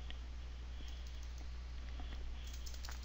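Keys tapped on a computer keyboard while editing a web page: sparse, faint clicks under a low hum, ending in one louder keystroke.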